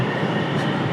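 Steady, loud rumble of a train pulling away, close by, with a continuous roar and no break.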